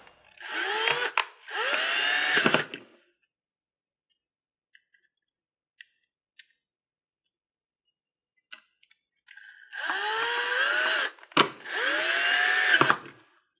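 Power screwdriver driving the two screws inside the battery compartment of an IQ smart lock's interior assembly, two separate bursts of whirring with a long near-silent pause between them, close and fairly loud.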